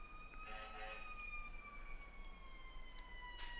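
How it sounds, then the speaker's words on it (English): Siren in the Voices of the Void video game, a faint, steady wailing tone held through the whole clip over low ambient rumble, with a voice murmuring briefly. "Another siren."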